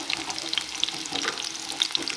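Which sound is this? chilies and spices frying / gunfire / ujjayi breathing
chilies and spices frying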